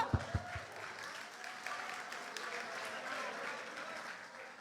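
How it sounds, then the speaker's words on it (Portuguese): An audience at a Sunday married couples' gathering breaks into steady applause that holds for about five seconds at a moderate distance, with a few sharper claps near the start. "uma salva de palmas para quem lembrou"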